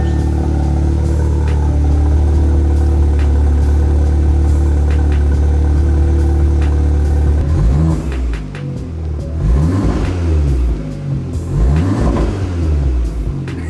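A turbocharged Audi S3 with an ECS Tuning resonated catback exhaust, valves closed, idles with a low, steady exhaust rumble, then revs rise and fall in a few throaty pulls near the microphone.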